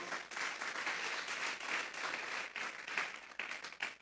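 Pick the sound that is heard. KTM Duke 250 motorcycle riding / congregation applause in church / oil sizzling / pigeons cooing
congregation applause in church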